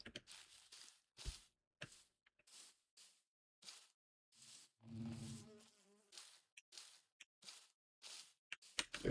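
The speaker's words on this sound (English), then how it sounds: "There, I see a bee." A Minecraft bee buzzing in short, repeated bursts, rising and fading as it moves close and away, with near-silence between buzzes and no talk.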